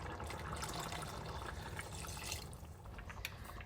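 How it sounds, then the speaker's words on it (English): Water is poured steadily into a pot of chicken pulao with rice, a continuous close splashing and trickling rush that holds fairly even throughout, with no talking. "Now I'm adding some more water for the rice to cook."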